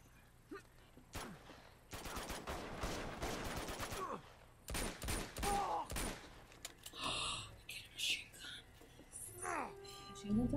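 Bursts of rapid machine gun fire and gunshots crackle through a combat scene in Uncharted 2: Among Thieves, coming in several loud volleys mixed with game effects and people talking.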